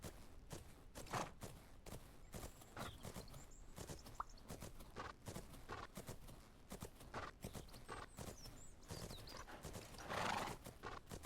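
Horse hooves clip-clop steadily through a cantering circle in a horse-riding video game, with a horse neighing and whinnying at moments, loudest near the end, and no talking over it.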